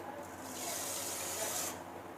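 Water runs steadily into a pressure cooker to start a sugar syrup for rasgulla, a short, close and moderately loud splashing pour that rises and then cuts off, with no talking.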